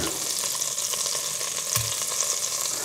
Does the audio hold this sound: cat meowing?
no